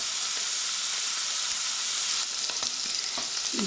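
Tofu sizzles steadily in a hot pan, a constant bright hiss of oil with occasional small pops and crackles, close and loud, with no voices.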